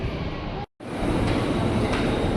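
A KRL commuter train pulls into a station platform, giving a loud steady rumble of wheels and carriages with broadband rail noise, briefly cut by a short dropout before the rolling roar resumes.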